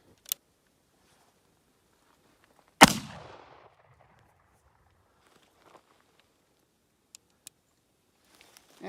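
A single sharp gunshot from an 1858 Remington revolver cracks loud and close, followed by a short decaying echo, with a few faint clicks and handling taps before and after in otherwise quiet surroundings.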